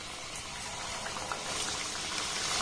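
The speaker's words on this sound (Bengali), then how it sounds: "এইভাবে তেলের মধ্যে ছাড়বেন, সবগুলো কিন্তু একইভাবে ছাড়বেন।" Chhena jilipi dough pieces frying in hot oil, a steady close hiss and bubbling sizzle that holds evenly throughout with no talking.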